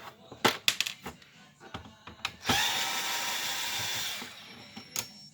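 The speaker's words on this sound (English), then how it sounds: "we're going to take the two screws out" Screws being removed from a Canon Pixma TS9120 printer with a power screwdriver: sharp clicks and taps, then a loud steady whirring burst of about one and a half seconds, followed by a few more clicks.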